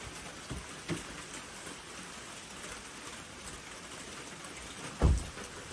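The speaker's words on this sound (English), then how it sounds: "It's raining outside today, guys." Steady, soft rain patters on a surface outdoors, with a couple of dull thumps standing out against the constant hiss.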